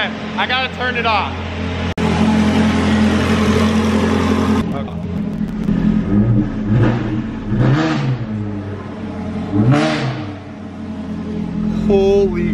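Loud, close revving from a Ferrari F430 with a new exhaust, several sharp throttle blips rising and falling over a rumbling idle, while someone speaks excitedly over the engine.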